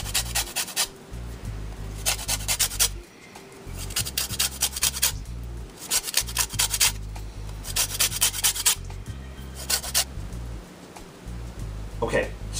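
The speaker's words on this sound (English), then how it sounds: "When you're zesting, really avoid the white part of the lime" A key lime being zested on a grater, giving repeated close rasping strokes in bursts with short pauses between them, while a person talks over the scraping.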